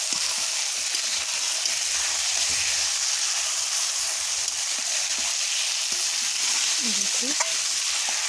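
Chicken meat being sautéed with chilli powder in a pan, a steady loud broadband sizzle with occasional stirring scrapes, no talking, continuous throughout.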